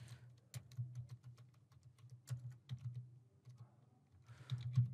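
A customer's name is typed on a computer keyboard, quiet close key clicks in irregular quick bursts with brief pauses, ending in a faster flurry of taps.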